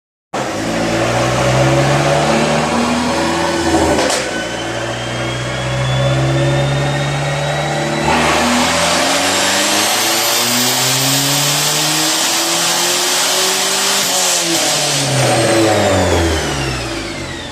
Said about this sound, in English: that was the exhaust put back on. And we made a back-to-back pull.